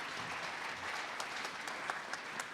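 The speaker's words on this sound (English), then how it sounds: "if everybody could just give a round of applause for Anna Lee" A panel-discussion audience applauds the moderator, fairly faint and distant, a steady patter of many hands with a few louder claps near the end.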